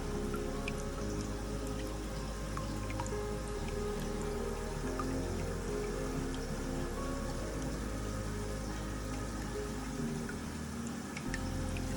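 Water trickling and dripping through airline tubing while acclimating mollies from freshwater to saltwater, a soft continuous patter of drips with faint scattered splashes, steady and quiet throughout.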